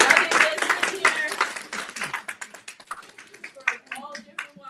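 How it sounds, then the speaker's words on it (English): Audience clapping at a community meeting with a vice mayor, a dense burst of applause that thins into scattered claps while voices talk over it. "All right, clap it up."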